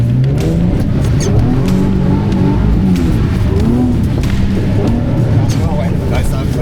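Car engine at full throttle on a track during a driving selection event, a loud, close, sustained growl that shifts in pitch as it pulls, with a voice talking over it.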